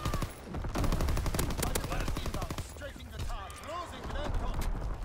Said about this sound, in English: Strafing the target.